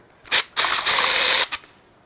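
A quarter-drive ratchet with an 11 mm swivel socket works on a BMW S85 V10 engine during teardown, giving a few close, sharp ratcheting bursts, with one longer run of clicking between two short ones.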